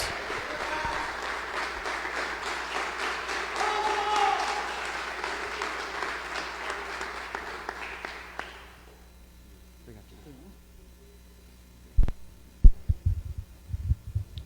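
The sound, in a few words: applause in church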